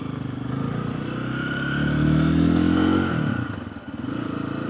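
A 2025 Lifan KPX 250 motorcycle engine revs steadily and close, swelling to a louder peak mid-way after a gear change and then dropping back, with a faint mechanical clatter underneath.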